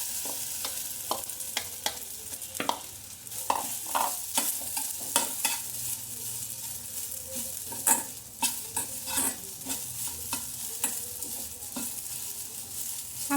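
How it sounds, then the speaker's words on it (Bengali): Soaked sago hits hot ghee with cardamom in a pan for sabu payesh, sizzling steadily while a spoon scrapes and taps in quick irregular strokes, close and fairly loud, with no voices. "ঘিটা গরম হয়ে গেলে এবার ভিজিয়ে রাখা সাবুগুলো ঢেলে দেব।"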